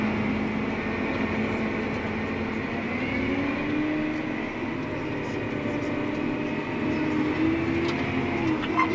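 A tractor engine runs steadily in 10th gear while pulling out onto the road during bean planting, a continuous low rumbling drone with a faint whine rising slightly, close and unbroken throughout.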